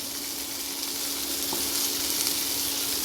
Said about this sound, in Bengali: দিচ্ছি কিছু বিনস আর দিচ্ছি কয়েক টুকরো ফুলকপি।